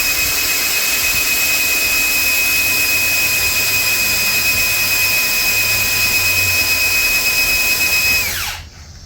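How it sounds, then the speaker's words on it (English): A 7-amp, half-horsepower power drill priming the distributor of a rebuilt Ford 428 engine whines steadily at high speed for several seconds, loud and close, then spins down and cuts off at the end. "I'm going to use my 1/2 horsepower 7-amp drill to prime the distributor here"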